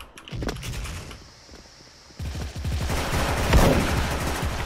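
Rapid rifle shots in the Special Force online shooter, a PSG-1 sniper rifle among them. A few sharp reports come early, then a dense, loud run of overlapping gunfire fills the second half, with no talk.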